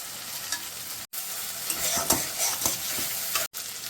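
Tomato drops into a pan of sizzling chopped onion and ginger-garlic paste for Bengali prawn malaikari, a steady close fry with scraping stirs and two sharp cuts in the sound.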